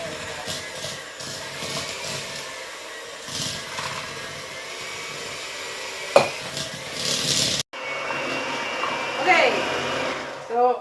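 An electric mixer whirs steadily, creaming butter and sugar into hamantashen dough. The motor drone continues for several seconds, broken by a brief knock, then resumes with a shifted tone.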